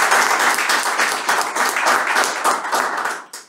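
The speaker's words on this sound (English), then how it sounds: "I'd like for you all to join me in a round of applause for Mr." An audience at a check presentation ceremony bursts into loud, sustained clapping that tapers off at the close, with a single clap after it fades.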